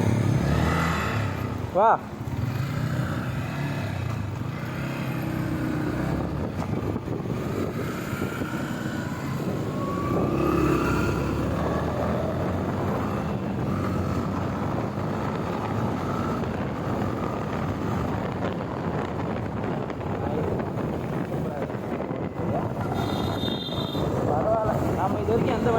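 A manual transmission car drives, its engine and road noise a steady loud drone from inside the cabin while people talk over it.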